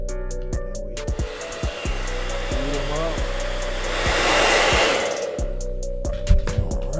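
A hot air blower heats Glock pistol grip panels during a DIY grip upgrade, its steady broadband whoosh running close and loud for the whole span, with knocks and handling clatter over it and a brief voice near the end.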